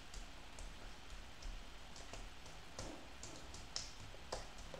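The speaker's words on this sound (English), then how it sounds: "Okay, the rain stopped somewhat." Steady rain falls softly, with scattered louder drops ticking against a surface throughout; the whole scene is faint and continuous, with no voices.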